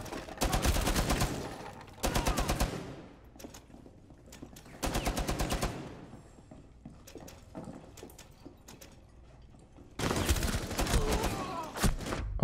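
Bursts of automatic gunfire from the video game Rainbow Six come in several loud, rapid volleys separated by quieter gaps with scattered single shots and clicks.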